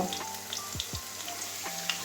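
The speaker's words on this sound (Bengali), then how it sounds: "আলুটা ভেজে নিই" Steady sizzling of potatoes frying in hot oil, with a few low thuds and scrapes from stirring, no voices.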